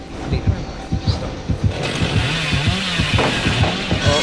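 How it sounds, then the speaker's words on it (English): In the video game Dead by Daylight, the Hillbilly killer's chainsaw chugs in rapid rhythmic pulses, then revs into a steadier buzzing drone, loud and near, heard amid game audio. "The hillbilly, can hear the chainsaw."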